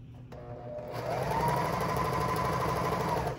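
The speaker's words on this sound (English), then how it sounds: "we're gonna serge down this tail to make a thicker tail" A serger runs steadily as it stitches down the tail of a silk worship flag, a fast whirring mechanical buzz starting after a brief click and holding constant and close to the end.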